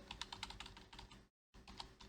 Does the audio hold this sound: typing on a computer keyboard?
yes